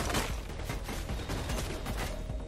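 Rapid automatic gunfire in the video game Mirror's Edge, a dense, loud, continuous burst of overlapping shots and impacts filling the whole stretch without pause.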